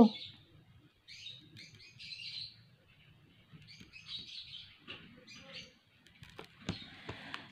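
Several birds chirp and tweet in short bursts, fairly faint against a quiet background, with a few sharper calls near the end.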